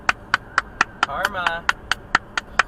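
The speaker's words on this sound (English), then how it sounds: "I was clapping for the police officer." Steady hand clapping by a driver inside a car, about a dozen crisp claps at an even pace, briefly overlapped by a short spoken word in the middle.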